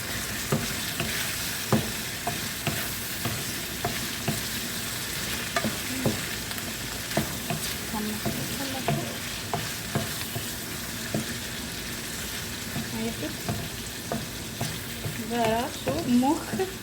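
Onion and tomato fry in a pan, giving a soft, steady sizzle broken by regular scrapes and knocks of a stirring spoon, with the pace picking up near the end.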